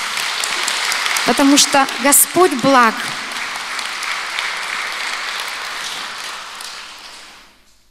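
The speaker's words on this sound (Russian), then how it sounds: "И давайте просто воздадим Богу аплодисменты за это." A congregation's sustained applause fills the room while someone speaks over it briefly; the clapping continues on its own afterward and fades out at the end.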